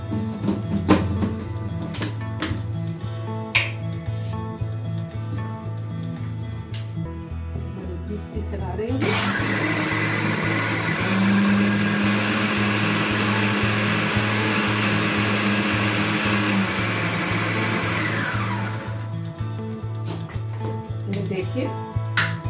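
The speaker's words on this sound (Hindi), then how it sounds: "इसे मिक्सी ग्राइंडर में पीस लेंगे।" A mixer grinder blends milk, coffee and sugar for cold coffee, roaring loudly for about ten seconds in the middle while a voice talks before and after and a steady background tone runs throughout.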